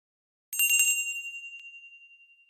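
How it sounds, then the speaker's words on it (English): Small metal bells rung by a uniformed maid at a poolside restaurant, a bright jingling burst that rings out and fades slowly, with no voices. "A jingling of bells interrupt your conversation."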